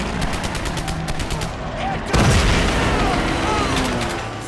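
Gunfire crackles through a World War II Pearl Harbor battle in Medal of Honor: Pacific Assault, rapid machine-gun bursts and a heavy boom at the midpoint, loud and dense throughout.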